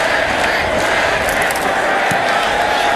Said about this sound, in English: this crowd was waiting. They were ready to erupt